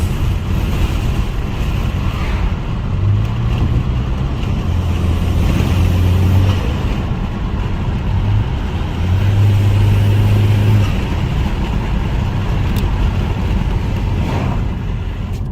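Steady broadband road and wind rush from a moving 2016–2021 Honda Civic fitted with an aftermarket shark grille, with constant low engine rumble and airy whooshing through the grille throughout, no voices.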